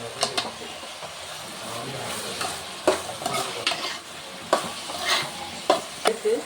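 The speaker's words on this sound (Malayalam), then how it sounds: "തക്കാളി കൂടി ചേർത്ത് ഇളക്കി നല്ലപോലെ മിക്സാക്കുക" Spoon stirring tomato into a crab curry in a pan, with repeated scraping strokes over a steady sizzle that rise in bursts, close and fairly loud, no one speaking.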